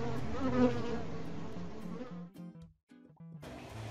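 Bees buzzing around open flowers, a dense insect drone that holds steadily for about two seconds, then breaks into choppy, thinner bursts with brief near-silence before the buzzing swells back.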